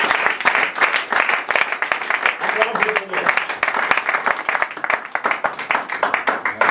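A church congregation applauding, dense steady clapping from many hands with voices mixed in, loud and continuous throughout.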